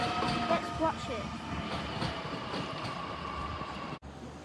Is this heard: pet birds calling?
no